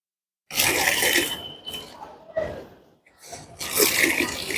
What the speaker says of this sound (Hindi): ये टॉवल है जो गंदा था, मैं इसको निचोड़ देता हूँ।